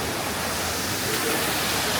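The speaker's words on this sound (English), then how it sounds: "Nellie, do you want to stand in front of the waterfall?" A waterfall on a hike near Cotopaxi roars as a steady, broadband wash of falling water, loud and continuous throughout with no voices over it.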